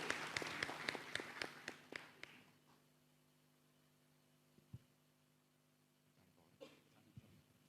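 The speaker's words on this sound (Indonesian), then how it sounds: "Berikan tepuk tangan buat hambanya Pak Widodo." Applause for a speaker in a church, a brief burst of quick rhythmic clapping that fades within about two seconds, followed by a quiet hall with a faint hum and a couple of soft knocks.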